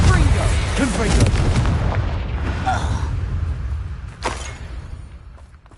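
Spell blasts going off during Harry Potter gameplay on PS4, booming bursts under game voices and music, with a sharp burst near the end.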